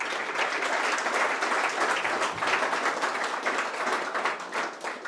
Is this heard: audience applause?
yes